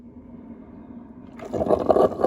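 Hot water from a Ninja Hot & Cold Brew System coffee maker pours and gurgles into the brew basket. A quiet machine hum comes first, then a sudden louder stretch of splashing and bubbling.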